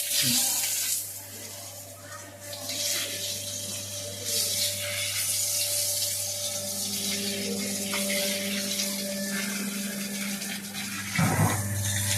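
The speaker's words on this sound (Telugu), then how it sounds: "మొక్కలకు కూడా నీళ్ళు పోసేయాలి" Steady running water streams and splashes as plants are watered, with a constant low hum throughout and a brief louder splash near the end.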